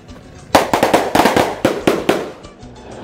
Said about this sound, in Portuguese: Soltar os fogos aí.